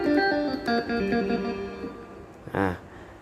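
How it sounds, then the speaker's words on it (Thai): A phin guitar voice on a Korg PA600 arranger keyboard plays a short plucked melodic phrase, clear and close, ending with a brief warbling flourish. "เป็นเสียงกีตาร์พิณ"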